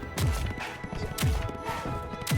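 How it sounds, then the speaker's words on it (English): In the MultiVersus fighting game, Jake turns into a galloping horse, giving three loud rhythmic clip-clop bursts of hooves with impact thuds, with no one talking. "An unstoppable horse."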